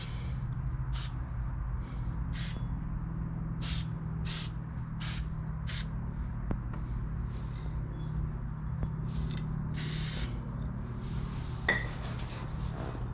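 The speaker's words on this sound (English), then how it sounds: "I'm gonna use some metal protector to help make sure it don't get corroded or stuck." Metal protector sprayed onto a used junkyard brake rotor in repeated short hissing bursts, about a dozen quick spritzes spaced irregularly over a low steady background hum, with a faint clink partway through.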